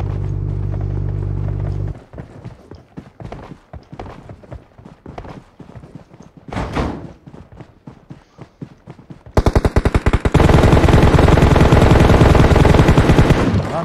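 Gunfire in PUBG Mobile: sparse scattered shots first, then a loud rapid automatic burst near the end, continuous and close.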